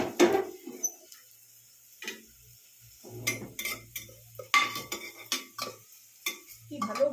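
Litti being stirred with ghee in a pan makes scattered scraping and clinking of a utensil against metal, with soft quiet gaps between the strokes.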